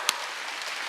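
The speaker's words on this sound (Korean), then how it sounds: "박수 세게 치라니까 이렇게" Church congregation at a Korean Wednesday worship service clapping hands, two sharp isolated claps a moment apart over faint room noise.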